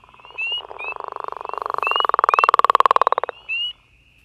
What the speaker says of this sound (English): that's the sound of the northern leopard frog.